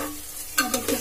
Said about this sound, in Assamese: চাউলখিনি অকণমান সময় ভাজিব লাগিব